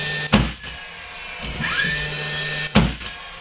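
A DeWalt 16 gauge finish nailer drives finish nails, countersinking them; two sharp close pneumatic bangs come about two and a half seconds apart, with a brief whine and hum between them.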